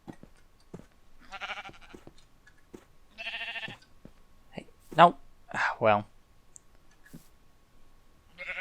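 A sheep in a video game bleats several times in short, wavering calls, faint to moderate in loudness, as someone talks between them.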